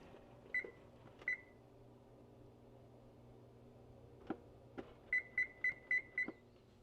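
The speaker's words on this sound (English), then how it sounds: "our timer went off and our cake is done" A kitchen oven timer signals a finished Mountain Dew cake baked at 350 degrees: two short beeps, a couple of faint clicks, then a quick run of five beeps, clear against a quiet room hum.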